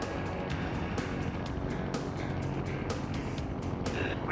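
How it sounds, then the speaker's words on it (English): Aircraft engine throttled back to the equivalent of 9 horsepower at 800 feet altitude, a steady droning hum with regular rhythmic pulsing throughout. "We're going to throttle down the engine so it's the equivalent of 9 horsepower."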